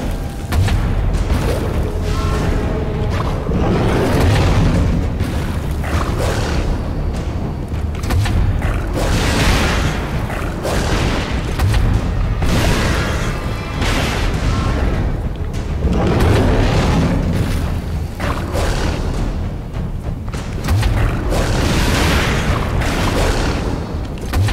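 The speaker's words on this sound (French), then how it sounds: "Pour moi, c'est une meilleure arme, la théière canon." A teapot cannon weapon fires in the video game Alice: Madness Returns, a dense series of heavy booming blasts in rapid succession, loud and continuous across the whole stretch.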